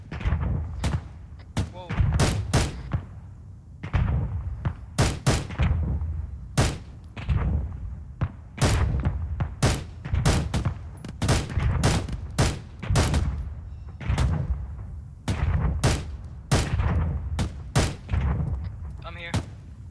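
Suppressive gunfire in a firefight in Afghanistan: dense, repeated loud shots and short bursts crack steadily for about twenty seconds, with a voice briefly exclaiming amid the shooting.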